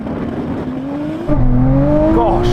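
A drag race launch between a tuned Nissan GT-R, a Porsche 911 Turbo and an electric rallycross car, with engines revving up in rising pitch and a loud surge of power near and close, under a brief voice.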